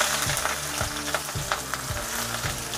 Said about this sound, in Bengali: পেঁয়াজ কুচি দিলাম, এটাকে আমি একটু ভাজব।